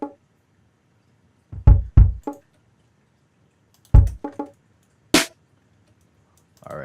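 Layered drum hits with a loud, sharp snare: a few kick-and-snare strikes in short bursts, punchy and dry, separated by silence, with one bright cracking snare standing out.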